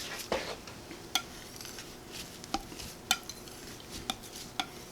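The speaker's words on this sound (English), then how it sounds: "scrape it up with my ink knife, like so, and start over." A metal ink knife scrapes printing ink off a slab in a series of short, sharp scrapes and clicks at uneven intervals, close and fairly quiet.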